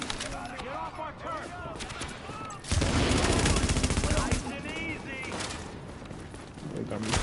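Video game gunfire: a sudden burst of loud rapid shots erupts midway and continues for a couple of seconds, with quieter game sounds and a voice talking before and after.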